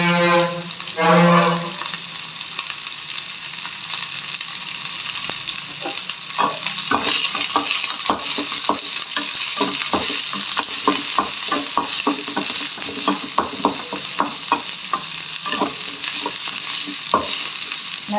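Curry leaves sauté in a pan with a steady soft sizzle and repeated clicks of a spoon stirring. A brief hiss flares near the start.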